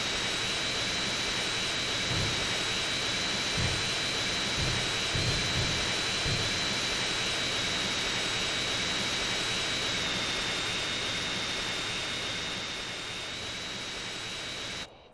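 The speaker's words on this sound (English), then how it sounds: "Who you know got a military jet as they toy vehicle in a mansion" A military jet engine in GTA San Andreas Definitive Edition roars steadily and loudly for about fifteen seconds, a thick broadband rush with a thin high whine on top, easing slightly near the end, with no talking.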